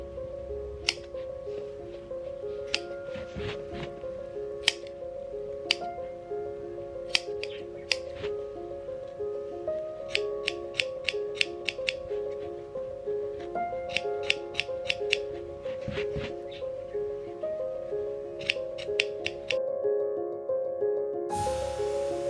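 Scissors snip through paper in a steady series of crisp, close cuts spread across the span, with a constant background hum and no talking.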